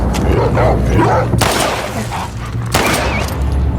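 A dog barks in The Last of Us video game, sharp barks mixed with heavy thumps and booming bursts of game action, loud and close.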